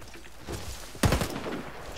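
Gunfire in a video game with a sniper in play: a softer shot early on, then a sharp, loud report followed by a brief trailing rumble.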